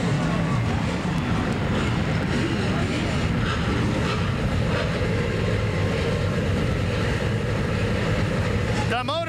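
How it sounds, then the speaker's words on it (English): Stock cars fire their engines together for the ASA 200 at Indianapolis Raceway Park, a dense, continuous roar of many motors filling the speedway, loud and unbroken, with a single sharp engine rev rising near the end. "The motors have come to life here at IRP"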